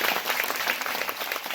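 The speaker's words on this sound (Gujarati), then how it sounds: "એને એકવાર જોરદાર તાળીઓથી વધાવીએ" An audience breaks into steady applause, dense hand clapping from a crowd that keeps up evenly for a brief stretch, heard at a moderate distance.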